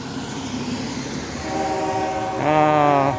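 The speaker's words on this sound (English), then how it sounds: "Wow, that was a big train." A train rumbles past nearby with a steady roar, then a loud sustained horn blast sounds near the end.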